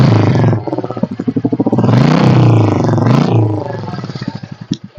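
Royal Enfield Classic 350 (2024) motorcycle idling in neutral, its exhaust giving a steady thumping pulse that swells into a louder rev before settling back, recorded close up with no talk.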